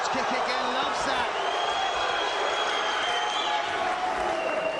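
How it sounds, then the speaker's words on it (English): An arena crowd roars and cheers at a kickboxing fight between Kadir Dalkıran and Kenan Jafali, a dense, continuous wash of noise with a commentator's voice running over it and occasional thuds from the ring. "The crowd love it too."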